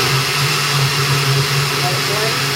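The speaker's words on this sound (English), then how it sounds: "So just go ahead and turn your blender on." Kitchen blender running at high speed while blending homemade tomato soup, a loud continuous motor whir with a steady low hum, uninterrupted throughout.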